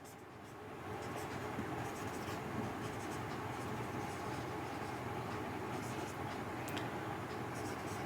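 A date is written at the top of a trial balance, with a steady scratchy writing sound running for several seconds over continuous background noise and faint clicks. No one speaks.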